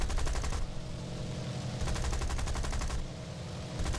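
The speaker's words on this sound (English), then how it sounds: "My nose gunner is firing at the enemy fighter." Machine gun fire from a Bristol Beaufort bomber's nose gunner in War Thunder, loud rapid bursts rattling in two long strings with a brief pause between, over steady engine drone.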